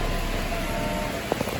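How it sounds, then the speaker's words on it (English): Heavy rain pours steadily around a parked Mazda RX7 FD during bodywork stripped to bare metal, a dense constant hiss close to the phone with a couple of brief louder splats near the end. "the rain is so bad I can't show it because my phone's just soaked"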